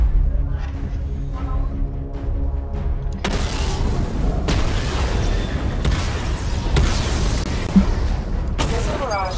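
Missile barrage in a video game striking targets, heard as a string of heavy booming blasts every second or so over a constant rumbling bed, loud and near, after a quieter opening with faint tones.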